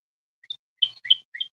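A small bird gives a few quick, high chirps, isolated and clear against silence, in a short irregular series.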